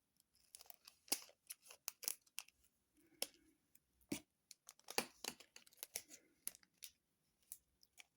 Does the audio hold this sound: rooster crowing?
no